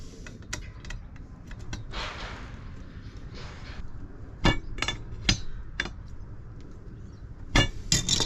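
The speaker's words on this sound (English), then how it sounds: "And then it's a case of tightening it up." Sharp metallic clicks and taps from a lugworm bait pump being tightened by hand, scattered irregular knocks close up with a short scraping rustle between them.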